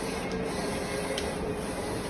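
A Shenyang Electronics Zuli printer with an Epson i3200 printhead runs in 4-pass high-speed mode, making a continuous mechanical whir and hiss with faint periodic ticks, steady and close, with no speech.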